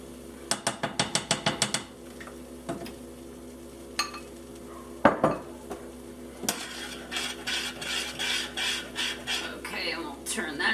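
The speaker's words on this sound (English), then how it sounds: "definitely stirring constantly" A flour and water mixture is stirred in a pot on the stove, with a fast run of spoon taps against the pot at first, then irregular scraping and a steady rhythmic swishing of the spoon, with a voice speaking partway through.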